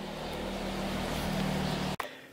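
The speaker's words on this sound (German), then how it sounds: "Ihr hört momentan, ist echt brutal, was hier Verkehr gerade ist." Constant rumble of heavy street traffic streaming past, loud and close, broken by a sharp knock near the end.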